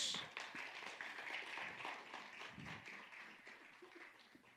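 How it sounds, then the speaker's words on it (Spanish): Audience clapping at a church-style gathering, loose and moderately loud, tapering off gradually. "De un aplauso a Jesús."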